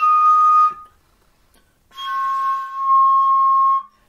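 Two clear, sustained tones ring out from a glass bottle, a short one then a longer one, each fading cleanly with a quiet pause between.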